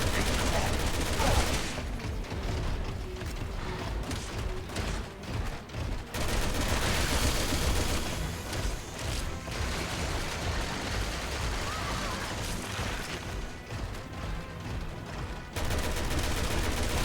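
Gunfire in the Resident Evil 6 video game, in Leon's campaign: dense, continuous shooting and blasts that stay loud almost the whole time.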